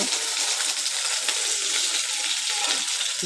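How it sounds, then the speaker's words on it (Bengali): An egg frying in a pan, a hot man-made meal, gives off a steady loud sizzle and crackle throughout, with faint scraping as it is flipped. "ঘুরিয়ে দাও দেখছেন কী করে ডিম ভাজে"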